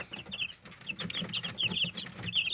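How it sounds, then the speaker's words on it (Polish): Several blue Marans hens and a blue Marans rooster cluck and chatter nearby in a steady, overlapping stream of short calls, with faint low murmuring underneath. "Tu mamy parę kurek niebieskich maransów i niebieskiego koguta."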